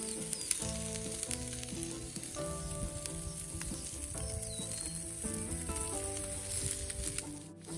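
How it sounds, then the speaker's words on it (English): Chicken wings sizzling on a grill built from a wheelbarrow, a steady close crackling fry with faint background music tones. "Let's get these wings on our new grill. Ooh, listen to that sizzle."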